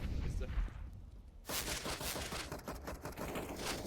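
Gunfire in a competitive video game match, scattered bursts of shots and rapid fire rattling through game noise, loud and dense after a brief quieter stretch.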